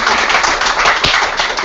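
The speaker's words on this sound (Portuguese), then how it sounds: "Pessoal, uma salva de palmas aí para o..." A crowd applauds at a talk on social media in organizations, dense steady clapping filling the whole moment at close range with no voices over it.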